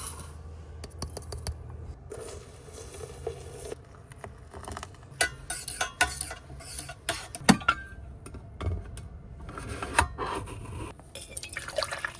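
Freshly boiled water trickles and patters into a cup to make coffee inside a camper, with intermittent pouring, dripping and clinks of dishes, close and fairly quiet.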